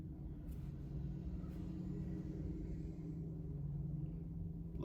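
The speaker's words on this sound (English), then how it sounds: "Loud ass truck passed by my window." A loud truck passes by outside a window, heard as a low, steady engine rumble that stays fairly even and muffled for several seconds.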